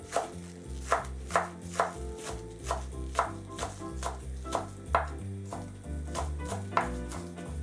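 A kitchen knife chops chives on a cutting board for baked potatoes, with about fourteen crisp, steady strokes roughly every half second over soft background music.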